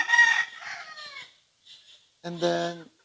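A broodcock rooster blind since birth calls out in short, close vocal bursts with brief silences between, heard clearly with no talking over it.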